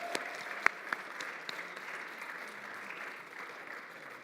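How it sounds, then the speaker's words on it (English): Audience applauding mock trial competition participants, a steady wash of clapping with a few sharp louder claps near the start, sustained evenly and fading slightly toward the end. "how about a big round of applause for all of our mock trial participants?"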